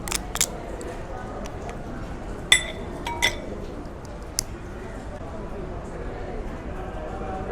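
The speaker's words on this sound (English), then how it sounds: "Go ahead and crack open another piece." A cooked crab shell being cracked open at a seafood meal in Sri Lanka, served with chili garlic sauce, gives a few sharp close clinks and snaps spread over a quiet background of room noise.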